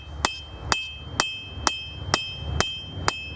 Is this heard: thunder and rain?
no